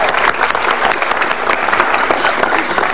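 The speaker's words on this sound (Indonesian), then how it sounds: "Silahkan tepuk tangan sekarang." An audience at a televised Indonesian presidential debate forum bursts into dense, sustained applause, loud and close, filling the short stretch with no talk over it.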